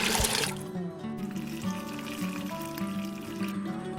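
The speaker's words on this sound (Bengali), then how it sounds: "এর মধ্যে সেদ্ধ করে রাখা চাল কুমড়ো আর আলুর ঝোলটা এর মধ্যে অ্যাড করে দিলাম" Boiled ash gourd and potato broth poured into a pan for a shukto with shiuli leaves, a brief splash followed by steady liquid trickling and bubbling at moderate loudness, with no talk.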